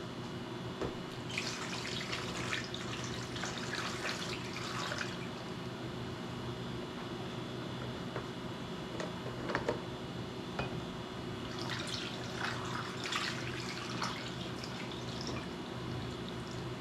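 Water mixed with pickling lime pours steadily over unwashed eggs in a container, a soft continuous trickle and splash that rises and falls in quiet bursts, close and alone without talk.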